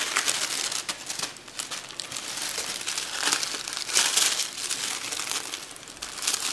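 Tissue paper wrapping crinkles and rustles steadily as a package of happy mail is unwrapped by hand, close and fairly quiet, with bursts of louder crumpling and no talking.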